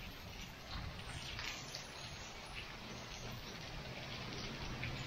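Dense, steady rain with hail pelting down nonstop on a family tent in a severe thunderstorm, a loud, even wash of drumming and tinking with no pauses.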